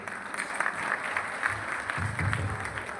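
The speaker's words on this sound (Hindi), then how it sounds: "जोरदार तालियां अमित जी के लिए।" Audience applause at a business success seminar, steady clapping from a crowd that carries through the whole stretch, with a low murmur of voices and some cheering toward the end.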